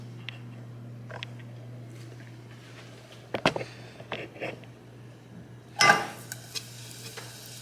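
White parts of scallions hit a pot of hot olive oil with a sudden, loud burst of sizzle near the end, after several faint clinks and stirring knocks from cookware; no one talks.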